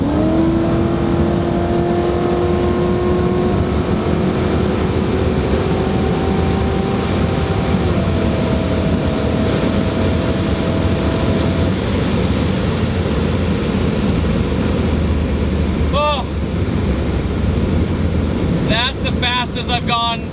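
A supercharged C5 Corvette accelerates hard, its engine tone rising steadily through the gears under heavy wind roar, then settling into a loud steady cruise with the wind rushing past.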